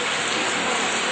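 Steady rain pours down at an outdoor training closing ceremony, a dense continuous hiss filling the clip with no pauses and no voices over it.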